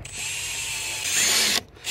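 A power drill boring small holes in a car bumper while restoring an abandoned race car, a close, continuous high whine that briefly cuts out and then starts again.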